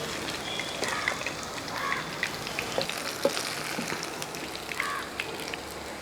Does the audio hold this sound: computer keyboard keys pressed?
no